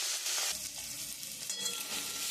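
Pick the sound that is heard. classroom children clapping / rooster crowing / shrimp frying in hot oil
shrimp frying in hot oil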